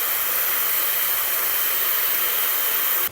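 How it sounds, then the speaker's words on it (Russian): A handheld hair dryer blows steadily and loudly on a bob or short haircut as it is styled over a round brush, its airflow a continuous broadband roar that cuts off at the end. "Обратите внимание, куда я направляю сопла фена."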